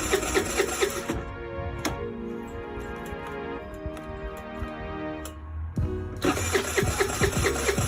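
A Ruckus-clone scooter engine is cranked over and over, a rapid rhythmic churning with short pauses between attempts, loud and close with no one talking.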